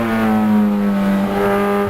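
Race cars in a NASA National Honda Challenge championship race roar down the front straightaway, a loud sustained engine note close by with a slight pitch shift as they pass.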